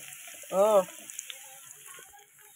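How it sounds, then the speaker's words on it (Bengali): Potatoes frying in a pan until crisp and reddish give a faint, steady sizzle, with a brief voiced sound near the start. "একটু ভালো করে লাল লাল করে মুচমুচে করে একটু আলুটা ভাজা করে নিই"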